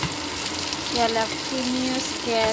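Marinated pork with cabbage and jalapenos stir-fries in a pan, giving a steady close sizzle with scraping stirs, while a voice talks over it.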